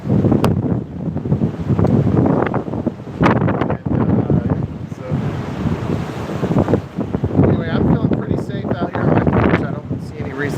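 Strong hurricane wind at Wrightsville Beach, North Carolina, buffets the microphone in a steady roar, with storm-surge surf churning underneath and a person talking over the gusts throughout.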